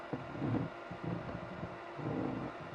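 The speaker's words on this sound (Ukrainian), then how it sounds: "вентилятор, бачите, працює." A cooling fan fitted in a 12-to-220-volt inverter whirs steadily with a broad, airy rush, close and fairly quiet, with slight rises and dips in the noise.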